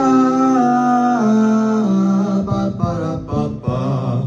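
A sung voice stacked with electronic harmonies above and below it, sustained notes shifting in steps, then shorter choppy phrases near the end.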